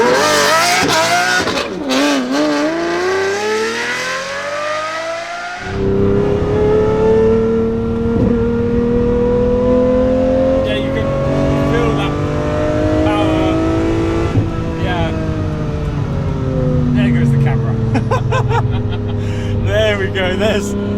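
Powerful Lamborghini engine accelerating hard while driving, a loud sustained roar with rising and shifting revs that drops at a gear change and climbs again, close and dominant throughout.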